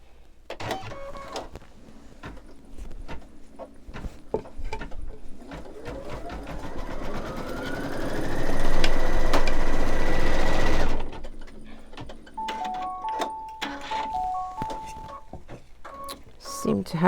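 An embroidery machine stitching a snowman mug rug, running in a loud, even mechanical whir that rises and holds for a few seconds, with someone talking before and after and occasional high beeps.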